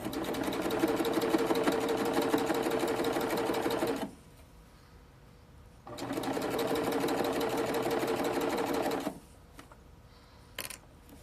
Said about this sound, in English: And I'm just stretching, sewing and stretching.